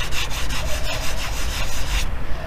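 Firm back-and-forth rubbing across a car's interior trim panel to take off an old sticker, a steady rasping friction stroke repeated rapidly, close and loud, with no voices, stopping abruptly near the end.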